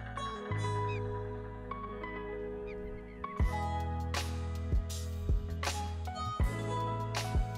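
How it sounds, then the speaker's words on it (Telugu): Birds calling beside a lake in Narsapur Forest Urban Park near Hyderabad, loud honking, goose-like cries repeating in uneven bursts close by, layered over a continuous chorus of other calls. "వావ్, ఆ బర్డ్స్ చూడ ఎంత క్యూట్గా అరుస్తున్నాయో"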